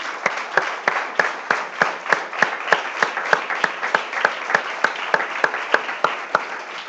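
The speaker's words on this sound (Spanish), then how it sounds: "Démosle un aplauso también." A church congregation claps together in a steady rhythmic beat, roughly three claps per second, sharp and evenly spaced, continuing without voices for several seconds.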